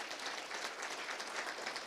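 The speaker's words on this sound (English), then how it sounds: "Round of applause." Short burst of steady audience applause at an awards event honoring a 2024 Award of Excellence recipient, an even wash of clapping from start to end with no talk over it.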